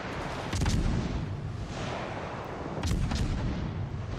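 Naval gunfire from battleships in World of Warships Legends, in a battle with the Tier 6 Russian battleship Sinop: two heavy booming salvos, near 0.6 and 2.9 seconds, rise over a constant rumbling battle din with no talk.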